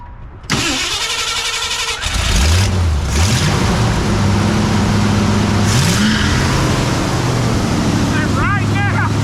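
A 1968 Ford F100 with a newly fitted four-barrel carburetor and timing chain: a starter cranks briefly, then the engine catches and settles into a loud, steady idle right up close, with a few shifts in pitch.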